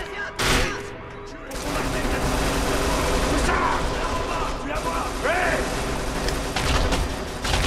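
Gunfire in the action video game Kane & Lynch 2: Dog Days, loud sustained bursts of automatic fire with mechanical clatter and crashes, dense and continuous after a brief pause near the start.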